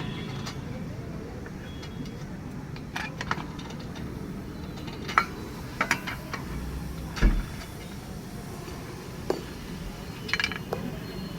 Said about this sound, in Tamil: இதுக்கப்புறம் எல்லா போல்ட்டும் கழட்டி எடுத்துக்கணும்.